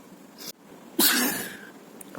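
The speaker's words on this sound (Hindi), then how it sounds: "फिर जैसे ही हम रेडी हो रहे थे छींक आ गई" A single sharp human sneeze bursts out loudly and close, preceded by a short inhaled catch of breath, with a quiet room around it.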